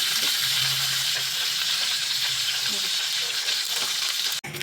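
Egg and bitter gourd frying in a pan give a steady, loud sizzle and hiss that runs unbroken, with faint stirring and a brief clatter near the end.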